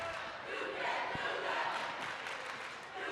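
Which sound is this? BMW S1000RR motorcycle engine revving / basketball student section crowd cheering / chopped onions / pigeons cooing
basketball student section crowd cheering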